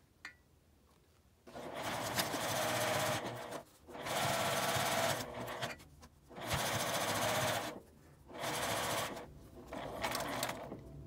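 A sewing machine stitches a seam in a fabric zipper pouch, running in four long bursts of steady motor whirring separated by short pauses, close and fairly loud with no talk.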